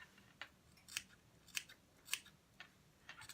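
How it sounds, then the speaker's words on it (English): Sharp scissors snip fabric around the neckline of an A-line dress in a close, quiet series of about six crisp cuts at a steady rhythm. "We're going to trim the neck."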